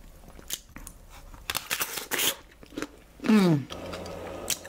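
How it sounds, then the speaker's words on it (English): Close crunchy bites and chewing of a fresh pear at a mealtime, with a few crisp bursts and soft chewing sounds, and a voice speaking briefly partway through. "Let's eat our pear."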